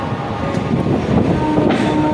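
A Medinipur local train pulls out of crowded Howrah station on a cool morning, its loud, steady rumble and rolling wheel noise filling the clip from close inside the carriage.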